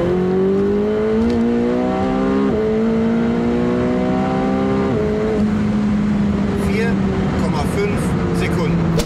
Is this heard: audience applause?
no